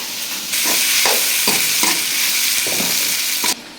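Small onions crushed on a grinding stone and green chillies frying in a pan for a village-style rabbit gravy, a loud close sizzle with rhythmic stirring scrapes, no talk.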